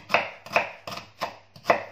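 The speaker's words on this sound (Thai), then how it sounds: "ในระหว่างนั้นเราก็มาหั่นหอม" A kitchen knife chops onions on a cutting board in five crisp, evenly spaced strikes, close and clear with no talking.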